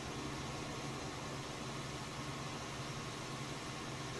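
A tractor engine drives along in Farming Simulator 19, a steady, unbroken mid-low mechanical drone that holds at constant level throughout with no talk.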